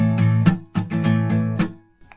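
Acoustic guitar strummed in a verse pattern, with chords strummed louder on beats two and four, several bright strokes across about two seconds before the ringing fades out, no voices.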